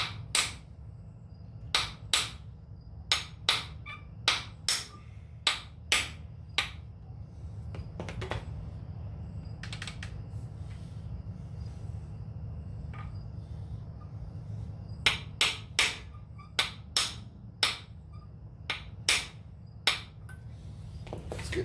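Hammer blows on a stuck valve in a flathead Ford 134 engine with the head removed: two bursts of sharp metallic taps, about a dozen in the first seven seconds and another run after a pause, over a steady low background hum.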